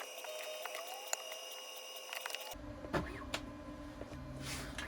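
A Bambu 3D printer runs its calibration routine in a trailer, giving a steady mechanical whir with faint tonal motor whines, then a louder buzzing and rattling phase with brief clicks and knocks partway through.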